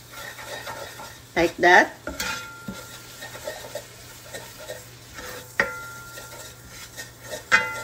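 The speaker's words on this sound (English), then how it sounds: "one spoon of butter in the pan and put the 4 spoon of flour, mix together" A spoonful of butter and four spoons of flour mixed together in a pan, heard as intermittent scraping and clinking of a utensil against metal over a faint sizzle, close up, with a brief voice near the start.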